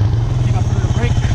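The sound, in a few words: motorcycle engine revving during wheelie practice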